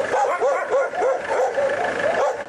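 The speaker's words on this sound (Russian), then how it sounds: "В вольерах сотни собак." Many dogs kept in enclosures at an animal shelter bark and yip together, a loud, dense overlapping chorus of high barks close by with no pause.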